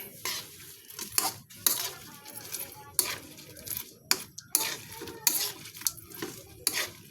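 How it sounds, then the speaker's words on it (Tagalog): Metal utensil stirring and mixing a dish in a cooking pot, a run of sharp scraping clinks and clatters at an irregular rhythm, close and fairly loud, with a voice talking briefly between strokes. "Ihalo na po natin."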